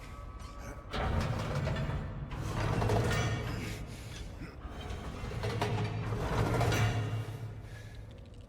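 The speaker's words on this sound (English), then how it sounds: "We are then going to unlock the handcuff and then turn the valve handle." Metallic ratcheting and grinding as a valve handle is cranked in the Silent Hill 2 remake, two sustained turning passes with creaks and clanks, fairly loud and close, with no talking.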